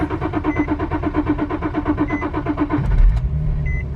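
An Infiniti G35 engine cranks in a rapid, even rhythmic whirr for nearly three seconds, then catches with a thump and settles into a low rumble, heard close and clear.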